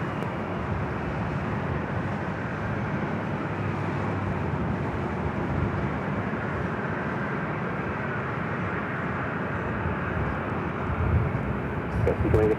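A Delta airliner taking off from runway 24 left at Los Angeles International Airport: a steady, broad jet engine roar heard from a distance that holds throughout, with air traffic control radio chatter under it.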